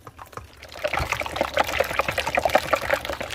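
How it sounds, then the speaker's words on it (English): Eggs and milk for a chile relleno casserole are whisked hard in a bowl, a fast run of wet rhythmic clicks and slaps starting after a quiet moment, close and steady, no voices. "whisk it vigorously to make sure there's no lumps and everything is mixed well"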